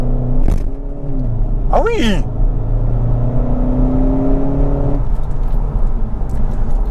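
A Skoda Octavia RS estate launches at full throttle in sport mode, the engine roaring loud and near with rising pitch through one gear before a shift, while occupants exclaim and talk.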